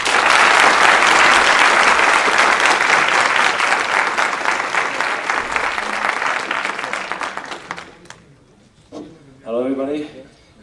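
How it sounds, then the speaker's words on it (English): An auditorium audience at a university lecture on swarm intelligence breaks into sustained, dense applause welcoming a speaker, loud at first and gradually thinning before stopping, with a voice starting to talk near the end. "Please, let's welcome him with a strong round of applause."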